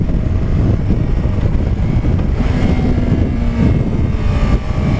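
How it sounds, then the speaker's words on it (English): Yamaha R3 motorcycle downshifting from fourth gear with a throttle blip, a loud steady engine drone with wind noise and a brief rise in pitch midway, no talk. "I'll just flip the throttle and I'll drop down a gear like this"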